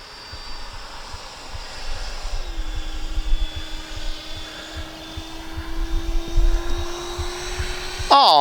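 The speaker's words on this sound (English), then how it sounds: "Oh, she's a sweet flying jet." Taft RC Valkyrie 90mm EDF model jet flying at full speed, a high whining ducted-fan roar with a steady tone that shifts slightly as it passes, loud and sustained over rushing wind.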